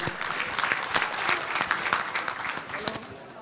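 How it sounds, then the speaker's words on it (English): An audience at a business breakfast applauding a speaker, a dense steady clapping from a room full of people, moderately loud, with voices mixed in underneath. "Please, can we clap for Gino"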